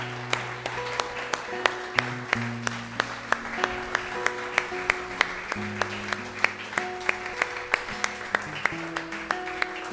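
A church congregation applauds during a worship service, a steady round of rhythmic claps with sustained musical tones underneath.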